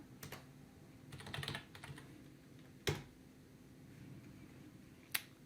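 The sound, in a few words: computer keyboard typing commands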